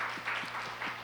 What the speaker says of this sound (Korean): 우리 찬양팀에게 우리 박수로 한번 격려했으면 좋겠습니다.